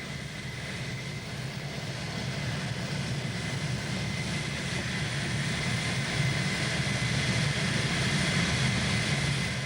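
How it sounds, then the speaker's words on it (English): A propeller airplane engine drones steadily as it prepares for takeoff, a loud, even hum with a low rumble that continues without a break and with no voices. "Captain Castle prepared for takeoff."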